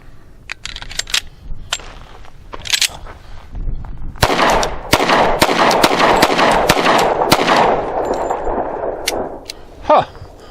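Astra A-75 pistol firing .45 ACP rounds outdoors, a string of about seven sharp, loud reports spaced unevenly across several seconds, with a few fainter clicks and handling noises before the shots begin.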